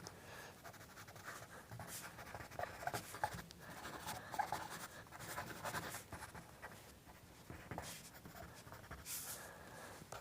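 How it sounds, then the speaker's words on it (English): A pencil moves quickly across paper making random shading marks for a sketch, a continuous soft scratchy rustle with bursts of faster strokes, close and quiet. "So really kind of moving the pencil around fast, trying to create these random marks to it."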